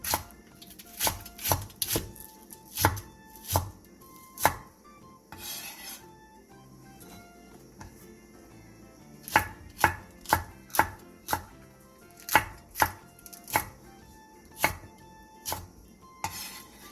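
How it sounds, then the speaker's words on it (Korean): Knife chopping green onion and chili peppers on a cutting board, a run of sharp, close knocks in quick bursts with short pauses between them. "대파 3분의 1개와 청양고추 2개를 어슷썰게 해주세요."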